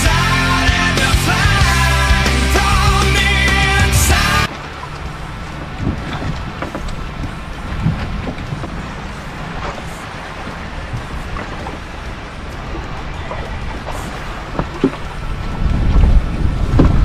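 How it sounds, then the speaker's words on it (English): Strong wind roars over a lake while bass fishing from a boat at Eagle Mountain, first as a loud, dense buffeting across the microphone, then a lower, gusty rush with scattered thumps, swelling again at the end. "it's getting really windy out here."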